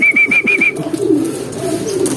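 A racing pigeon back from a 196 km race in hot weather gives soft, low cooing that runs steadily through the moment, with a few higher chirps from other birds at the start.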